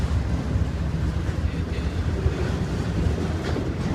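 A train passes very close to the track beside a parking area, a heavy low rumble with rolling wheel noise that stays loud and steady throughout.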